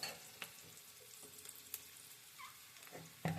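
Onion fries in a pan over low to medium heat, a faint, soft sizzle with a few sharp clicks and taps of a utensil and a louder knock at the end, with no voices.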